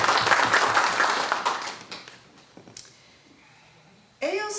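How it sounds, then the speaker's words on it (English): Audience applause at a congressional campaign event fills the room loudly, then thins into scattered clapping and fades before a voice resumes. "give yourselves a round of applause for caring enough about the issues and about my race to be here tonight"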